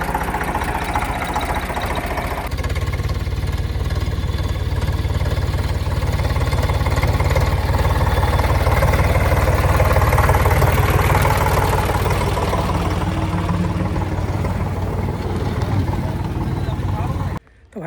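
An Eicher tractor engine runs steadily and loudly nearby with a low, rough idle rumble that builds slightly and then cuts off near the end.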